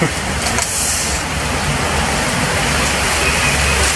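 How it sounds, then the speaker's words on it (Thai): Heavy rain drums on a roof in a garden, a loud, dense, unbroken roar that holds steady from start to finish. "มื่อนี้บรรยากาศฝนตกด้วยพี่น้องด้วยครับ"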